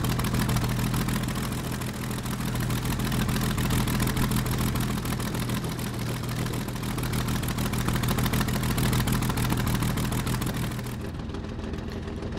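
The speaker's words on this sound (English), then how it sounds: "And the engine's running." A Messerschmitt Bf 109G-6 warbird's engine runs in Microsoft Flight Simulator after a cold start, a dense, continuous droning roar that holds steady and loud throughout with no talk over it.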